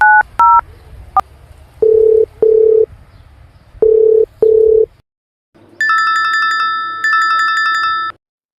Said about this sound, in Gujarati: કેપી નો ફોન અત્યારે કેમ આવ્યો છે?